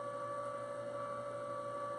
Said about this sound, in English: So that's how loud the extruder is.